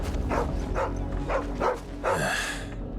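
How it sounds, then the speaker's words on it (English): A dog in the video game Final Fantasy XVI barks about four times in a steady rhythm, close and clear over a low background hum of game ambience. "A barking dog."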